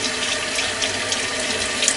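Water runs steadily from a tap into a sink for rinsing the face, a close, continuous splashing hiss with no pauses and no voices.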